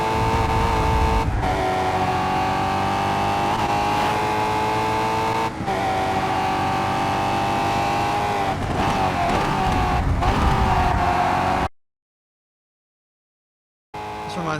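A DTM race car engine screams at high revs in Toca 3, loud and close, with sharp gear-change dips and rising whines, then cuts to silence before resuming.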